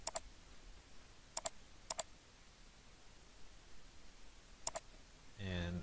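Computer mouse clicks in quiet: a few sharp, faint clicks, some in quick pairs, spaced apart over a soft background, with a short murmur of voice at the very end.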